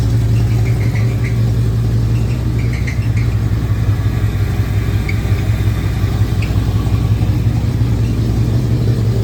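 A 1973 Ford Mustang Mach 1 engine, under restoration with new wiring, runs loud and close just after cranking up, holding a steady rough idle with a strong low rumble and faint higher squeals throughout.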